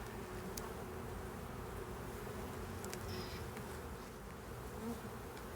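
Honeybees buzz around open hive frames during an inspection, a soft continuous hum with a few closer individual bees flying past.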